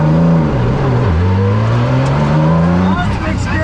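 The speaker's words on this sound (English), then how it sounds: "we're in this NSX GT3 race car" Acura NSX GT3 race car accelerating on a Laguna track, engine loud and close with a steady rising whine that shifts gear briefly near the middle and again near the end.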